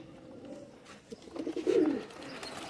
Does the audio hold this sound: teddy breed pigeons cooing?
yes